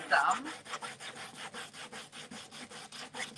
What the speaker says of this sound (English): So I think I'm going to take my sander and just scuff this up some